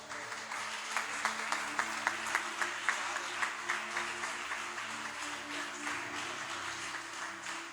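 A church congregation claps hands in praise to Jesus during a worship service, a steady rhythmic beat of palms over a low hum of the room, fairly even and moderately loud throughout.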